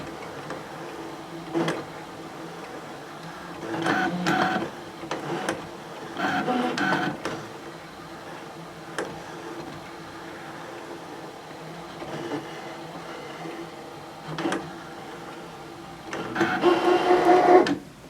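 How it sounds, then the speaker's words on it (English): A Brother ScanNCut DX cutting machine cuts adhesive vinyl on its mat, moderately near, with intermittent motor whirs and carriage movements separated by quieter pauses, ending in a louder burst of mechanical whine. "So I just come back up here and I can press start."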